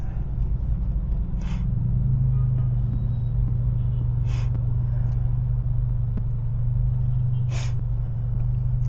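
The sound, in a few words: road traffic with cars and motorcycles in Novaliches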